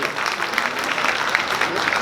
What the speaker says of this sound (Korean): 경세호 회장님 박수 한번 보내주십시오.